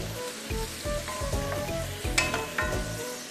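Vegetables stir-fry in hot oil in a pan with a steady close sizzle, broken by rhythmic scraping tosses of a spatula against the metal, and no talking.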